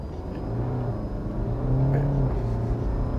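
A car launching on snow with stability systems switched off, its engine rising in a sustained, loud revving drone as the wheels spin, steady and close throughout.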